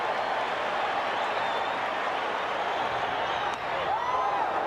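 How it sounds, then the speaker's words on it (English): Crowd at a 1988 ALCS baseball playoff game, a sustained roar of cheering and clapping, with a faint whistle or whoop rising near the end. "This crowd will tell you what's happening."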